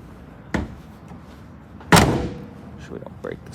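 The door of a 1972 Pierre Cardin AMC Javelin shuts twice in a garage: a lighter thump first, then a firm, solid slam. A voice speaks faintly afterward.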